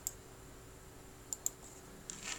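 Mouse clicks on a computer during a Peppermint Linux 9 OS installation, two short sharp clicks close together near the end, followed by faint soft tapping, with no talking.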